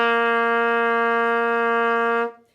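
Trumpet holding a long tone on low C: one steady, bright, harmonically rich note sustained for over two seconds at an even loudness, then cut off cleanly, heard alone.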